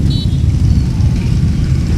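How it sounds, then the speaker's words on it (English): Street traffic at a busy junction in Angeles City, a loud, steady low engine rumble from nearby vehicles, with a brief faint higher tone, no talk. "Obviously, the traffic has started to calm down"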